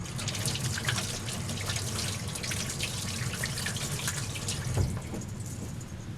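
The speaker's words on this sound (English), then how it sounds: "I am going to wash my hands." Tap water runs steadily into a kitchen sink while hands are washed beneath it, a continuous close splashing with small drips and a brief louder splash near the end, no talking.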